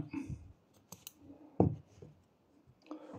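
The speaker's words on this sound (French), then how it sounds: "Et donc on peut couper le fil." Scissors snipping crochet yarn, a few sharp close clicks and cuts separated by quiet gaps.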